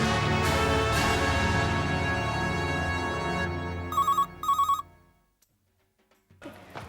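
A telephone rings inside a house, with two short electronic bursts partway through over a loud musical background score, followed by near silence.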